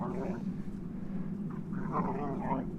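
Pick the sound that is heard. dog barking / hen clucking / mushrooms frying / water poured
dog barking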